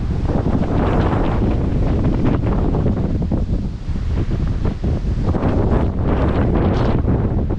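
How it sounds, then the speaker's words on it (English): Strong, steady wind at Pinnacle Cliffs on the Appalachian Trail roaring and buffeting the microphone throughout, a dense low rumble with gusty swells and no voices. "A little bit windy this morning."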